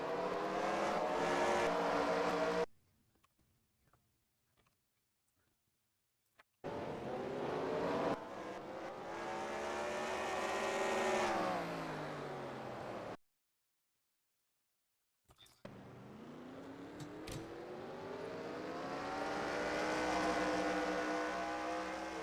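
ARCA stock cars race at Daytona in the NASCAR Racing 2003 video game, their engines droning loudly and climbing in pitch. The sound comes in sustained bursts separated by abrupt silent gaps.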